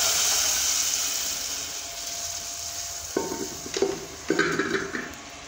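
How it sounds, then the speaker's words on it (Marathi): Tempering poured into cooked toor dal for Khandeshi dal, giving a steady frying hiss that bursts into several louder sizzling crackles toward the end, with no talking. "आपण वरण डाळ शिजलेली फोडणी टाकून घेऊ"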